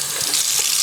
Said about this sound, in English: So what I do is I fill it up with a little bit of water